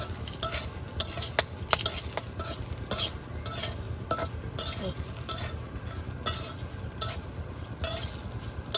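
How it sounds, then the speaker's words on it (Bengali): Dried red chillies fry in oil in a pan, a continuous close sizzle broken by repeated sharp stirring and scraping strikes of a utensil against the pan at an irregular rhythm. "একদম তেলে ভেজে নেওয়া হবে।"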